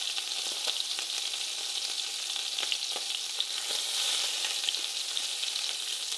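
Pork meat fries in oil in a pan, giving a dense, steady sizzle with small crackles and pops throughout, close and even in level, with no talking.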